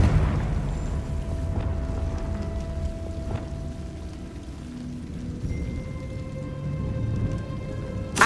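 Casting the Confringo fire spell in Hogwarts Legacy sets off a loud rumbling blast with crackling debris and sustained noise, with tonal game music tones layered over the rumble.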